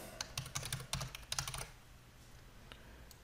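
A domain name is typed on a computer keyboard in a quick run of distinct, close keystrokes for about a second and a half, then a couple of stray key taps in a quiet room.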